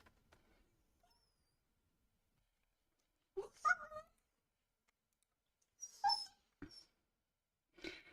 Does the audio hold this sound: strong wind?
no